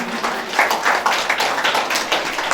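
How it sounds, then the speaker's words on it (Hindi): An audience at a school award ceremony claps as a medal and certificate are presented, a dense, steady round of many hands close by that holds without pause throughout. "तो जोरदार तालियों से स्वागत कीजिए।"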